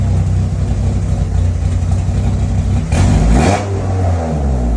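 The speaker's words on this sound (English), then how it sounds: "it does fire right up" Turbocharged 1991 Eagle Talon TSI engine already running steadily, loud and close, then revved briefly around the middle, rising in pitch and falling back to a rough, throbbing idle with no talking.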